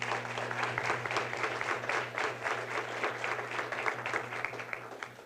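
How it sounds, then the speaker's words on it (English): Outdoor crowd at a university residence hall grand opening gives a steady round of applause, many hands clapping evenly at moderate distance, with a low hum running underneath. "A big round of applause for this."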